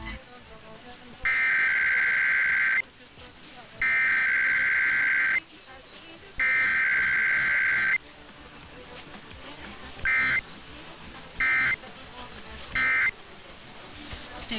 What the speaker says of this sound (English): The following is a test of the emergency alert system.